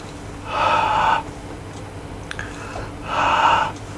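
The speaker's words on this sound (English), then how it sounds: "Just a bit of heavy breathing in the background." Heavy breathing close by: two loud, drawn-out exhales a few seconds apart, with a faint click between them over a quiet room hum.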